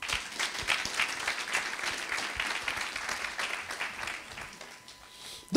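A church congregation at a French-language worship service breaks into sustained, steady applause that fills the room at a moderate distance, then tapers slightly near the end.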